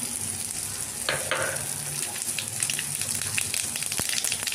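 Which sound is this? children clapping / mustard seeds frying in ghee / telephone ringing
mustard seeds frying in ghee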